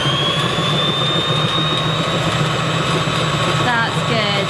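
Electric mixer whipping an egg in a kitchen while making a ham and cheese toastie loaf, a steady loud motor whine with a constant hum throughout, close by, with people talking briefly near the end.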